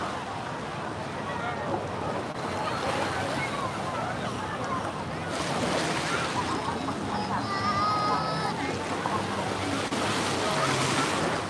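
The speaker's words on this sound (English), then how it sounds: "We are getting closer now to the My Khe beach" Surf washing ashore at My Khe beach in Da Nang in the evening, a steady broadband wash with wind buffeting the microphone, voices and other activity faintly mixed in.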